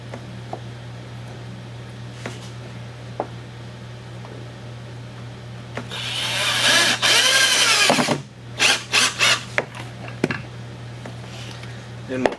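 A power drill whirs in one sustained burst driving a screw into wood cut at 45 degrees, then several short pulses follow; a low steady hum sits underneath and a voice talks intermittently.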